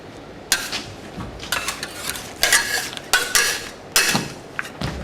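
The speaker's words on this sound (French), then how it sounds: "une fois qu'on a mis tous nos ingrédients, on va pouvoir bien les mélanger" Candy ingredients being stirred into hot sugar paste in a pot, scraping and clattering strokes of a utensil in irregular bursts, close and fairly loud, with no talking.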